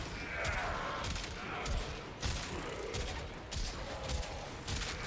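The Kuva Quartakk rifle fires in the video game Warframe in dense, continuous bursts of rapid shots, loud and close, with a few short pauses between volleys.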